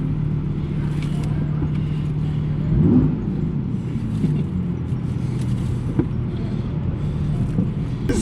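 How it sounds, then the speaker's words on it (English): A 2020 Audi R8 V10 sports car drives with a steady, close engine rumble and drone that swells briefly near the start, then settles into an even, low hum. "I'm so thrilled to be driving this car"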